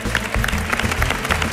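A flamenco audience applauds the performers, a dense burst of clapping filling the short moment at close range.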